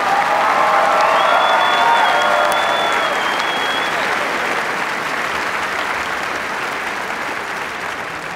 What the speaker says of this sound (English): Let's give them all a hearty round of applause.